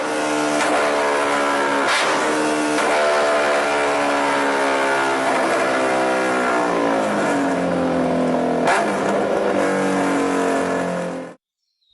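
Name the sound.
motorcycle engine revving, loud exhaust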